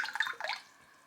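A small can of green grape soft drink, clear and not fizzy, poured out in a short splashy trickle that stops after about half a second, close and fairly quiet, with no talking.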